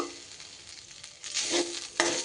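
Freshly grated coconut sizzles in a hot pan, a quiet crackle that grows louder midway, with a couple of sharper bursts of spatter near the end.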